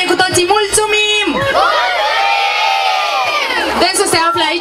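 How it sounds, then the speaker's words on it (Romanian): A crowd shouts thank you in Romanian at an outdoor Children's Day event in Golești, a loud unified cheer swelling and holding for a couple of seconds after an announcer speaks over a PA. "Haideți să strigăm tare cu toții, mulțumim!"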